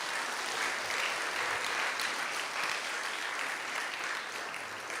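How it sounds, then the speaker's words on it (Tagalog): Church congregation applauding together, a dense, steady clapping that fills the room at even loudness throughout with no break. "Pumalakpak ang mga pinagpala ng Panginoon."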